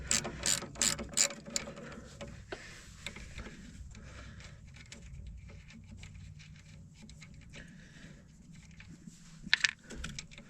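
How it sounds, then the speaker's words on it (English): Ratcheting wrench turning a bolt on a Mack silage truck, a few quick bursts of clicking at the start and again near the end over quiet shop background. "If I grabbed a ratcheting wrench. Ooh, that's a lot easier."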